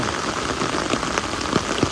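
Rain falls steadily on a surface outdoors, a dense even patter with occasional heavier drops standing out, close and continuous.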